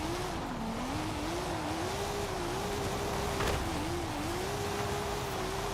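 A TVR mows through crops in the racing game Forza Horizon 5, its engine holding a steady drone that rises and dips slightly in pitch, with tire and road noise underneath.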